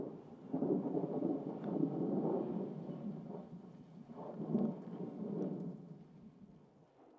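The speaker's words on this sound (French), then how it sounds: "ce tonnerre paraît vraiment proche" Deep rolling thunder rumbles continuously, swelling and fading in waves, with a soft wash of rain behind it.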